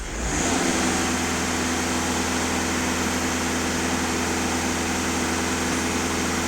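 A VW Caddy 2.0 TDI diesel engine runs steadily at about 2500 rpm, producing a constant loud, even drone after a brief rise at the start, with no speech.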